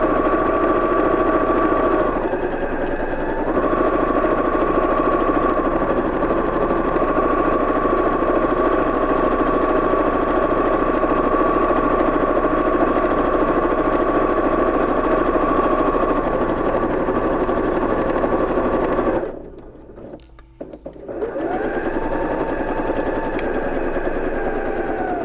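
A sewing machine stitches apron straps in one long, steady whirring run, close and loud, stopping briefly near the end before starting again.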